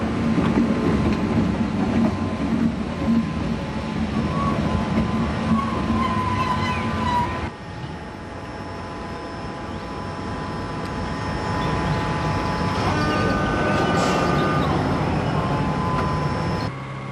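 Dutch electric locomotive number 1611 backing onto the Erasmus train at a station, a loud, continuous rumble with droning motor tones and a shift in pitch partway through, steady throughout.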